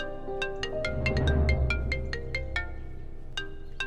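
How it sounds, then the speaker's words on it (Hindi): An outgoing phone call rings through a handset, a steady series of short, bright electronic tone pulses repeating at close range over a low hum, with no voices. "उसी नंबर पे फोन करता हूं जिससे प्रमोद जी ने मुझे कॉल किया था।"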